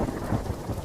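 Steady rain falling during a cartoon storm at a river, a dense continuous hiss with a low rumbling undertone, brief and even throughout.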